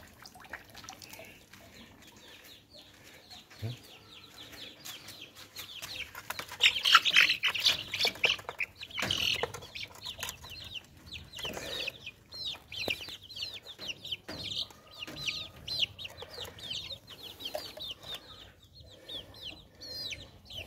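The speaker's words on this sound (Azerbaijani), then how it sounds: "Cücələr də qorxur bunlar." Frightened chicks and adult chickens squawk and cluck close by, a busy, continuous flurry of sharp peeps and calls that swells midway and keeps going with no voices.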